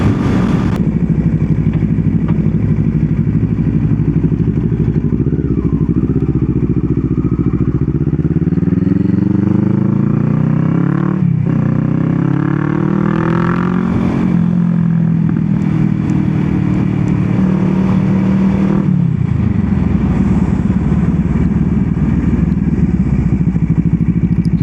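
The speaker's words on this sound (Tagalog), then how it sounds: "Adventure bike." A big adventure motorcycle rumbles loudly up close, its engine rising and falling through a couple of throttle swells before settling back to a steady idle, with no speech.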